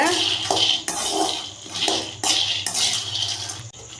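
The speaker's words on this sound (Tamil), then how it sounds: "வேர்க்கடலை பொன் வறுவலாக வறுந்து வர வரைக்கும் இந்த மாதிரி கிளறி விட்டுட்டே தான் இருக்கணும்" Peanuts roast and get stirred in a hot pan for groundnut coconut chutney, a steady close rattle and scrape of nuts against metal in repeated sweeps.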